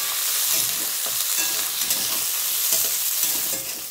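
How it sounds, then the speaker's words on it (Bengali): Fried rice with onions sizzles and is stirred in a hot wok, a steady, close frying hiss with repeated scraping stir strokes throughout and no talking. "এটা সুন্দর করে এখন ফ্রাই করবো।"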